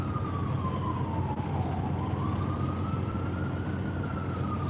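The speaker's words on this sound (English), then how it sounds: "Yeah, that's an ambulance." An ambulance siren wails steadily from start to finish at a moderate distance, its pitch falling and then rising again as it passes.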